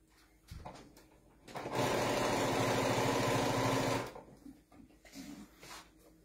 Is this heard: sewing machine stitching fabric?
yes